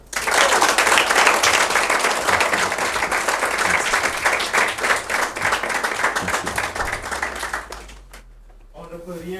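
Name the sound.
audience applause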